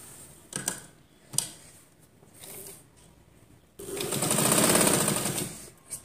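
A sewing machine stitching a lining into a readymade neckline gives a few short whirring bursts, then a longer steady rattling run of stitches, close and clear with no talking.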